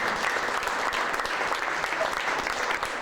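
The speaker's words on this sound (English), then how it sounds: "Give Nancy Withrow a big hand of applause." Steady applause from an audience at a hammered aluminum show, a dense, even wash of clapping that holds at the same loudness for about three seconds.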